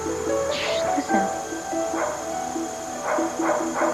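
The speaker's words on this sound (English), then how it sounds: "that's a dog barking." A dog barks several times in short yips, somewhat distant and moderately loud, over a steady background hum indoors.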